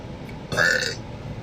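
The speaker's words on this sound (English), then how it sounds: "Yeah, I can burp." A woman gives a single short, close burp, a brief guttural belch standing out over quiet background, with no talking.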